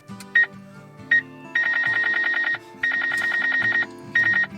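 Repeated electronic beeping tones in short bursts, then longer trilling stretches, loud and close, over a low background hum.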